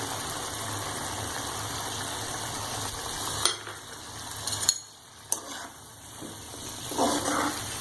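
Beef karahi with garlic, ginger and yogurt frying in a pan, a steady close sizzle broken by a few stirring clatters and brief dips in the hiss.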